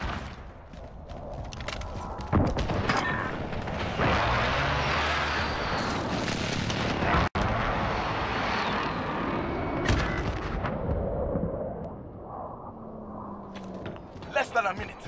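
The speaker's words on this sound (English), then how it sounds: "Enemy precision airstrike inbound." Precision airstrike in the video game Modern Warfare: a run of heavy, booming explosions and rumbling blasts over about fifteen seconds, with sharp cracks, gunfire bursts and debris noise, loud and close, some dropping off toward the end.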